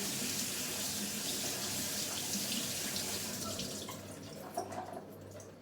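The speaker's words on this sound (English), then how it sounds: "So a little handful of beans, and I'm giving them a good rinse in the colander" A handful of beans being rinsed in a colander under a running kitchen tap: a steady close splash of water that thins out and turns drippy near the end.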